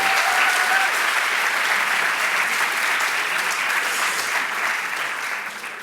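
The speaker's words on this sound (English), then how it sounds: "Big applause, please." An audience at an architecture department's 50th anniversary event applauds steadily and loudly. The clapping is dense and sustained, then eases slightly toward the end.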